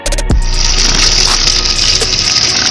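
Water running steadily in an outdoor spot in Africa, a loud close hiss that starts abruptly and continues unbroken with no voices.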